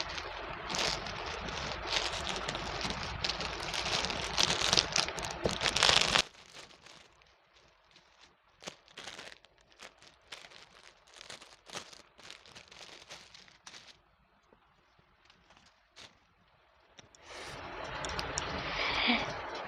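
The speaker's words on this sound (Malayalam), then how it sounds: "ഇനി അടുത്ത പ്രൊഡക്റ്റ് അൺബോക്സ് ചെയ്യാം" Plastic packaging of a Meesho parcel crinkles and rustles loudly for several seconds, settles into quieter handling and scattered rustles, then picks up again near the end, with no talk.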